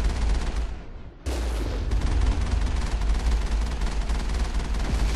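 The Mako vehicle's cannon fires in the Mass Effect video game amid heavy game combat, a loud dense barrage of booming blasts and rumble that briefly dips before a sharp explosive burst resumes the continuous roar.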